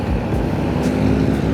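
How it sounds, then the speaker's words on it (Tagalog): Motorcycles passing along a road during a festival parade in Iligan City, a loud, close engine drone with low rumbling that stays steady throughout. "Grabe oh, mga motor oh."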